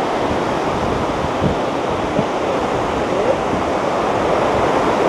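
Yutaki waterfall in Japan roars as a steady, dense rush of falling water heard from the top of the falls, loud and continuous with faint wind buffeting.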